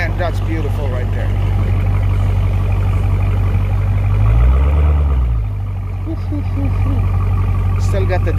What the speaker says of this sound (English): Still got the distinctive Mopar sound, but man, it's loud.